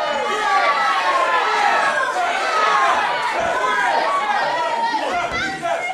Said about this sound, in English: Crowd getting increasingly agitated at the antics of the entitled